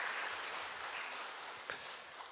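A church congregation applauds during a Wednesday worship service, a dense steady wash of clapping that lasts the whole stretch at moderate volume with no distinct single claps.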